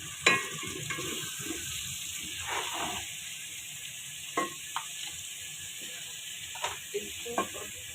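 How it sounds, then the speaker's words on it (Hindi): Cut potatoes and carrots fry in butter and masala, with a low sizzling hiss under intermittent scraping and knocking as the vegetables are stirred, quiet and close. "थोड़ा सा ये फ्राई हो जाएगी, मिक्स कर लें इसको अच्छी तरह से"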